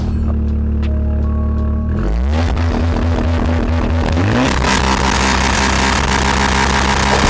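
Volkswagen Golf Mk8 GTI fitted with a downpipe and catback exhaust: the engine idles, then revs up sharply in rising and falling sweeps before holding a loud, raspy higher-rpm drone close to the exhaust.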